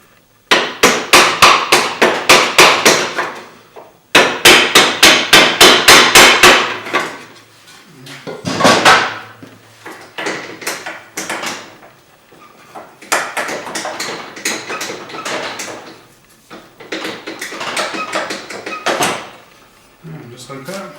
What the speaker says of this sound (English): we're going to go ahead and tap the header out